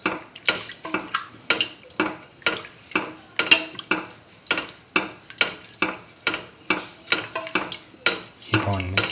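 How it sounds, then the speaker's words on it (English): A spoon stirs and sautés a peach, coconut milk and sugar vermicelli mixture in a pot, making regular scraping strokes about every half second with a faint sizzle. No one speaks. "Thoroughly saute and mix."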